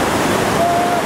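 Whitewater rapid on the Gauley River at about 2800 cfs, near a large undercut rock: a steady, loud, broadband rush of churning water fills the scene without pause, close by.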